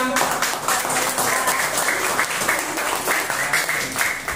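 A class of students applauding steadily in a classroom, dense clapping that stays loud and even throughout.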